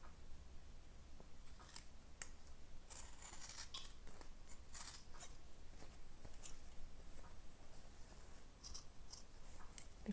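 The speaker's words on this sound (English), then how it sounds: "I need to leave only 2-3 millimeters of seam allowance, and the rest I cut." Scissors snip through the fabric seam allowance of a skirt waistband, a run of close, crisp cuts repeating steadily across the whole stretch against a quiet room.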